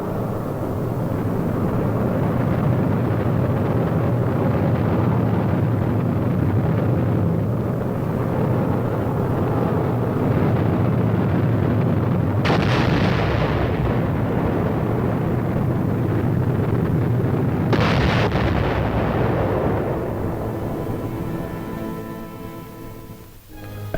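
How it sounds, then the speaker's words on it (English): A German V-2 guided missile launch heard in captured wartime archival film: a loud, continuous roaring rumble of rocket exhaust, steady for about twenty seconds with a couple of brief hiss surges before fading at the end. "The frightening V-2 guided missile followed, but only after many mistakes, as these captured German films of early rocket launching show."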